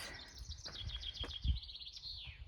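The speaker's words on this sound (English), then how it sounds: "birds singing." Birds sing among big trees on an Irish mountain, a quick run of bright repeated chirps followed by a drawn-out descending whistle, moderately close over soft background noise, with no talking.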